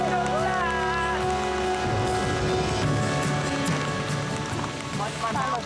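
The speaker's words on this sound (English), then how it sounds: "The return of the rain proves to be their salvation." Rain falls steadily on a survival island, a continuous patter of drops beneath voices and other background sound.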